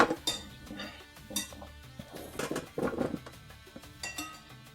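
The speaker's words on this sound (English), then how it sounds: "Then I'm gonna transfer the vegetables to the turkey roaster." Vegetables are spread around a turkey in a metal roaster, producing scattered clanks, scrapes and clinks of a utensil against the pan in irregular bursts, close and fairly clear, with no talk.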